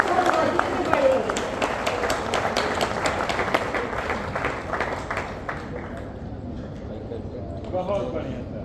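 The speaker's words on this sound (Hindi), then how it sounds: "एक बार ताली" An audience at a direct-selling seminar in Nainital claps for about five seconds in dense, crisp applause. The clapping then fades out under a low murmur of voices.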